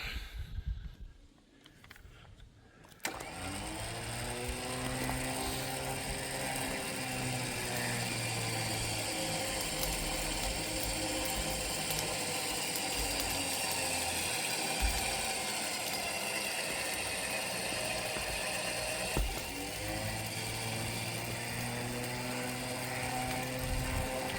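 A winch mounted on a Ford F150 Lightning pulls its line under load with the parking brake set, a steady loud mechanical whir with ratcheting gear texture running continuously after a quiet start, with no talk.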